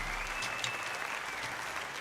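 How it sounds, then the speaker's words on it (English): Steady, dense clapping from a comedy audience cheering a man in the crowd, a brief even burst with no speech over it. "give him a round of applause"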